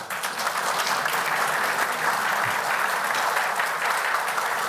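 Sustained, dense applause from a large crowd at a Brazilian political speech, steady and loud throughout with no pauses.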